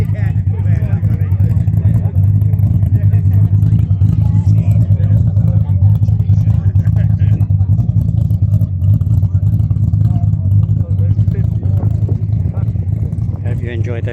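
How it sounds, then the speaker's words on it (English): Ford GT40 racing car, a British-built and designed racing model, rumbles with a loud, steady low engine exhaust note close by at a country fete, with crowd babble faintly underneath throughout. "Hope you enjoyed those exhaust notes."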